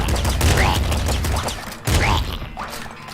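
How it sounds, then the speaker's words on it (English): Sustained machine gun fire in the video game Nuclear Throne: loud, dense, rapid bursts of shots in two runs separated by a brief dip, with game effects layered over the fire. "be tearing things up with a machine gun, like so"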